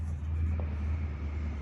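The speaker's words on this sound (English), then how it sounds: "it sounds like he's bringing his truck." A pickup truck's engine rumbles steadily nearby, a low continuous drone with no talk over it.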